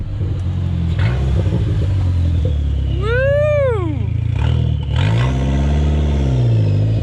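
A Dodge SRT4's engine revs loudly up close, with a sweeping rise and fall in pitch over a heavy, steady exhaust rumble, while a voice lets out a brief excited shout.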